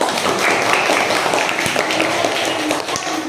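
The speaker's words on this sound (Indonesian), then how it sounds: "Kita tepuk tangan dulu dong." A class of pupils claps their hands together, a dense, steady patter of many hands filling the room for a few seconds without pause.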